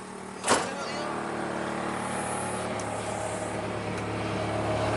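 A sedan idling and driving around the block, steady low engine hum close by, with a short sharp knock near the start and faint whining in the background.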